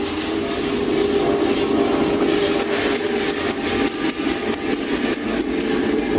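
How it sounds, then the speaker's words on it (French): A coffee roaster cools freshly roasted beans, its fan and motor keeping up a loud, constant mechanical whir with a faint rattle of tumbling beans and no speech. "Là, c'est la phase de refroidissement où le grain va être refroidi pendant quelques minutes pour atteindre une température ambiante."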